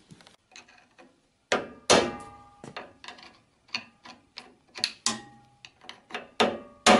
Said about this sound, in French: j'ai dû serrer un peu plus fort l'écrou en encoche qu'à la pince Becro